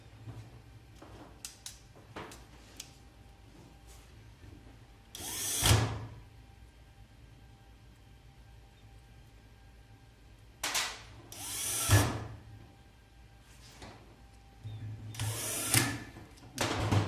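A power tool drives screws to secure the panel board of an iBeLink DM22G cryptocurrency miner. Several short whirring bursts, each a second or two long, are separated by quieter handling sounds over a steady low hum.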